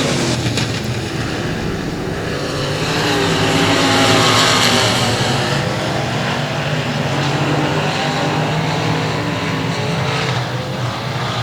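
Race cars roar around a dirt speedway on the final lap, a loud continuous engine drone that swells and fades as the pack passes, with no voices over it.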